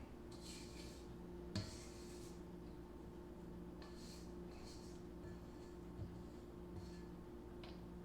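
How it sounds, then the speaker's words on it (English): A spatula scrapes the sides of a mixing bowl of thickened egg yolks and sugar for a Hungarian Dobos torte, giving soft repeated rasping strokes over a steady kitchen hum, fairly quiet. "we're just gonna scrape the bowl a little bit"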